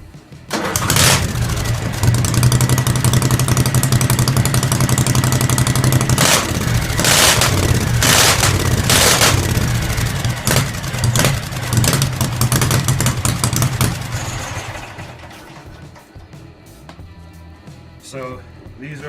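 An off-road mower build's engine starts up and runs loud and close with a rough, throbbing idle, punctuated by sharp bursts and revs, before cutting out and leaving quieter background noise.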